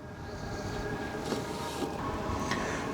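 A steady low rumbling drone of a HCALORY toolbox diesel heater starting up, with a few faint clicks and ticks on top.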